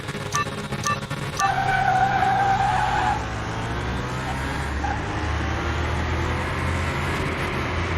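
Ford Mustang in Car Mechanic Simulator 2021 launching off the handbrake with a loud tire screech and revving engine, the squeal surging then easing into a sustained roar.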